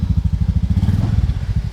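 A motorcycle engine runs close by with a fast, even low throb of firing pulses that stays steady the whole time, with no voices over it.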